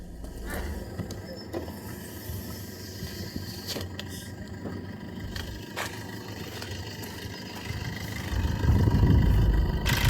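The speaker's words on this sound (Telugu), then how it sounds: "కాకపోతే మీకు ఇంజన్ సౌండ్ కూడా చూపిస్తాను." A 2019 Maruti Suzuki Brezza VDI diesel engine idling with the air conditioning on, a steady close rumble with a low swell near the end, while someone talks over it.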